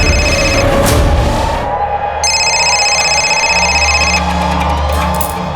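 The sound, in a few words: telephone ringing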